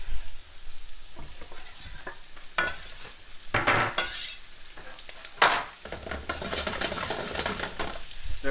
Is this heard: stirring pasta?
yes